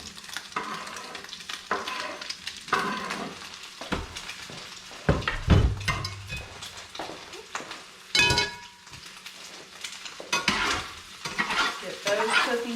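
Scallions and mushrooms sizzle in a cast iron pan, with repeated scraping stirs and sharp clanks as they are tossed, fairly close, with no talking.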